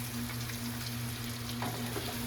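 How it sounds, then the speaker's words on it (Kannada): Curry leaves and brinjal fry in hot oil, giving a steady, close, continuous sizzle with scattered crackles throughout. "ಕರಿಬೇವು ಚಟಪಟ ಅಂತಿದೆ."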